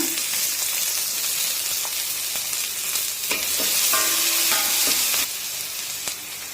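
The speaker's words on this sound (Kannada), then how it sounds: "ಈರುಳ್ಳಿ ಫ್ರೈ ಆಗ್ತಾ ಇದೆ" Onion sizzling loudly in hot oil with mustard seeds, curry leaves and garlic for a greens stir-fry, a steady dense crackle with a few stirring scrapes and brief tonal clinks, no voices.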